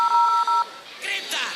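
A telephone keypad sends a quick run of evenly spaced dialing tones, loud and close, during a comedy show at a college event, followed by a brief gap and then a burst of other noise.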